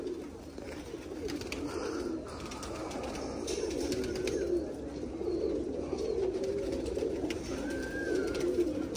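Pigeons cooing in a low, steady murmur throughout, with occasional faint higher chirps over a constant background hum; no talking.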